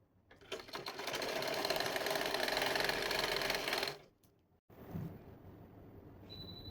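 A sewing machine stitching pant fabric, running in one fast continuous whirring burst for about three seconds, then stopping, followed by quieter handling noises.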